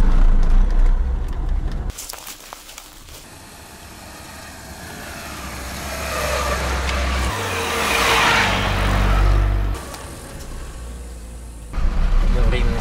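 Car driving along a rural road in Bashkiria, a steady low engine and tyre rumble that swells and fades in intensity, with a brief quieter stretch early on and the drone resuming near the end; faint voices may sound over it.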